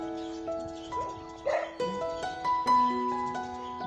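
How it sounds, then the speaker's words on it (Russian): A small, unhappy dog whimpers and yelps in short, high-pitched bursts, fairly close and moderately loud, with no voices over it. "Смотрите, какая несчастная собачка."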